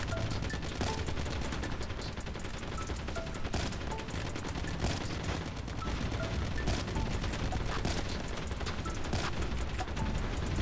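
Dense, continuous gunfire from the COD Mobile game's Undead Siege hard mode, with sniper rifle shots cracking repeatedly amid constant weapon fire and booms, loud and sustained throughout with no pauses.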